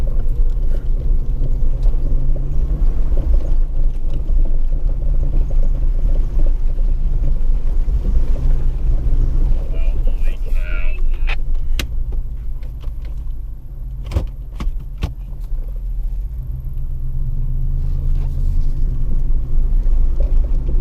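A Jeep WJ Grand Cherokee in two-wheel drive on a muddy off-road trail near Tuttle Creek, with a steady loud engine rumble and drivetrain drone throughout and scattered knocks and clunks from the body.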